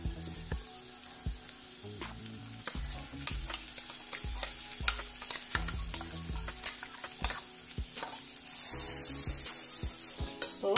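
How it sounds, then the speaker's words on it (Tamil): Green turkey berries and onions being stir-fried with a ground coconut paste for Sundaikai Poriyal, a soft sizzle under frequent sharp clicks and scrapes of a spoon on the pan, close and irregular, the hiss rising briefly near the end. "இந்த டைமில் நான் அரைச்சி வச்சுருக்கதான விழுதுகளை ஆட் பண்ணிக்கிறேன்"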